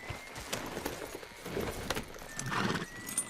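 Horse hooves clip-clop steadily at a walk in Red Dead Redemption 2, close and moderately loud over outdoor game ambience.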